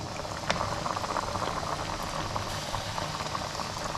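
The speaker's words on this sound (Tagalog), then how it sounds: "Patutuyin natin sa gata kasama mantika." Tilapia simmering in coconut milk with oil, a steady soft bubbling and crackling that stays even and fairly quiet throughout.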